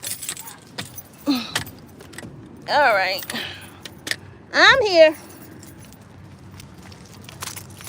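Keys jangle in short metallic bursts near a parked car with its engine left running, passing between a person's hands as they are moved onto a cane; a person speaks briefly in between.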